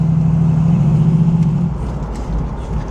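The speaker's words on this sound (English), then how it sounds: "you got a little bit of an exhaust in the back, but nothing crazy" A restored 1967 Chevrolet Camaro convertible with mild exhaust idles with a steady, low, close rumble that eases slightly partway through, with no talk.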